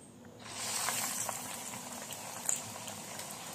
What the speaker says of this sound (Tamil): இப்போது இதை பொரித்து எடுத்துக்கலாம்.